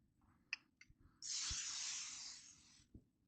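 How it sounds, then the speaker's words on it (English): Non-stick cooking spray hisses from a can into a bread-dough bowl in one steady two-second burst, preceded by a couple of small clicks of the nozzle and followed by a soft knock, all close and quiet. "little bit of no stick spray there in our bowl"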